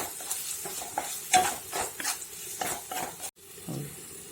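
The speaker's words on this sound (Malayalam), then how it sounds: "നമുക്കിതിലേക്ക് സവോള അരിഞ്ഞത് ചേർത്ത് കൊടുക്കാം" Chopped onions are stirred into hot oil with curry leaves in a pan for a dried prawn curry. A utensil scrapes the pan in repeated strokes over a soft, steady sizzle, with a brief clatter near the end.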